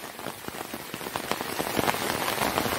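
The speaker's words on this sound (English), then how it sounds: "No, that's rain. Hell, that's rain. Here it comes" Steady rain falls outside during a winter storm, a dense, even patter of drops on surfaces that builds slightly over the stretch, close and continuous with no voices.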